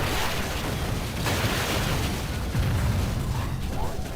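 Explosions in the Transformers Autobots video game from 2007 rumble through a busy mix of game noise, with several deep bursts and booms layered over a constant mechanical din.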